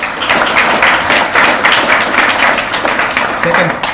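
A conference audience gives a round of applause at a tech awards presentation: dense, steady clapping from a crowd that fills the whole stretch at an even loudness, with talk mixed in.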